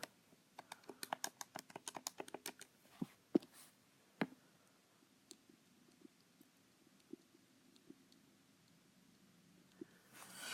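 Close, quiet keystrokes on a computer keyboard: a quick run of typing at first, then sparse isolated taps spread across the rest.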